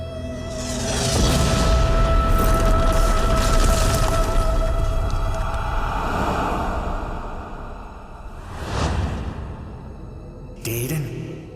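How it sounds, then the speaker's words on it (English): A blast breaching a wall in the video game Damnation: a loud, sustained booming roar with debris for several seconds, fading, then a second swell and a sharp final burst near the end. "We need to get through or around this wall. Professor Winslow, the explosives."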